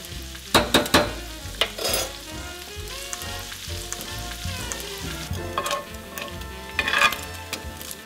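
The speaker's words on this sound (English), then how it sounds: "Okay, so the pancetta's cooking, it's all brown, we have all the yummy grease from it." Pancetta fries and sizzles steadily in a pan as its grease renders, with occasional utensil clicks and stirring scrapes near the microphone and no voices.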